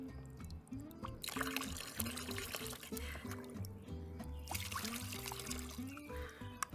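Water pours and trickles steadily through a tube, gurgling under soft background music, with occasional splashes.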